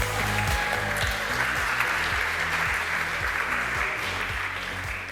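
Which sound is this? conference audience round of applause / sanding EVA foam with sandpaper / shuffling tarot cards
conference audience round of applause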